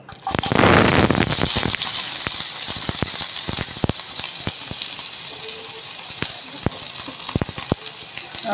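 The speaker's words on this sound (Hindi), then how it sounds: "तेल घाल आनी तेला वण्णा कांदो घालपाचो" Onion dropped into hot oil in a kadai, a loud sizzling burst at first that settles into steady frying crackle with scattered sharp pops and spatters throughout.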